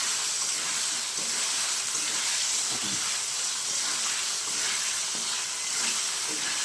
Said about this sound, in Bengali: এবার তুমি ভিজে রাখা আলু দিয়ে দিয়ে আবার একটু কষিয়ে নেবেন